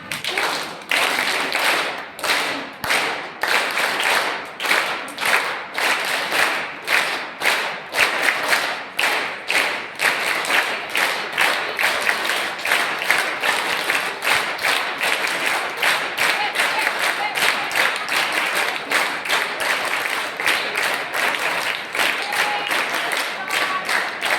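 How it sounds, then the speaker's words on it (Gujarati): An indoor audience claps in unison to a steady beat, the sharp rhythmic claps repeating quickly for the whole stretch with a voice faintly under them. "હું એક રીતમ બોલું એમાં તાળી પાડજો"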